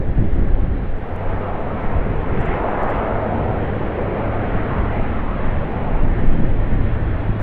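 A QantasLink Q400 turboprop on runway 25 at Sydney Airport gives a steady, loud, broadband engine roar with a low droning hum, sustained throughout with a slight swell near the end.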